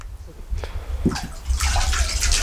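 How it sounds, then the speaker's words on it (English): Water splashes and pours into a lime plaster mix at close range, rising to a steady gushing toward the end, with a voice speaking briefly over it. "And we just add a little bit of water,"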